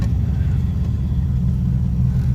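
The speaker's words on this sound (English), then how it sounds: "Car seems to be stopping nice and straight." A 1938 Chevrolet Master Deluxe with disc front and drum rear brakes on a GM 10-bolt rear end rolls to a stop, giving a steady, close, low road-and-engine rumble with no voices.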